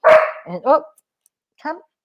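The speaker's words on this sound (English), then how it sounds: "She's a mad collie, and she gets all wound up when I'm on a Zoom call." A collie barks close by: one sharp loud bark, two quicker yips, then a pause and a final bark, with no talk over it.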